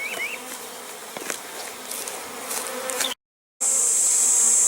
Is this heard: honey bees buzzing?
yes